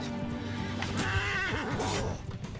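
Horses whinnying loudly and close in the medieval combat game Mount and Blade, with rising, wavering neighs over a busy battle background and some hoof clatter.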